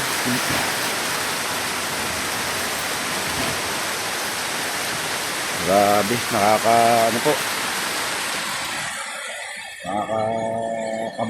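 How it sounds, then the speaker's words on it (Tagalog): Heavy, continuous rain pours down during a days-long storm that is flooding a house, a dense steady roar beneath short bursts of talk, with the rain briefly dropping away near the end. "Sobrang lakas ng ulan."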